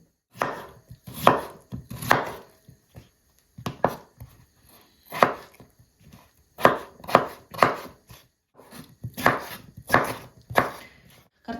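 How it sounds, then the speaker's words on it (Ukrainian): A knife chops potatoes repeatedly on a board in quick bursts of sharp, close knocks with short pauses between runs. "ми зараз наріжемо картоплі"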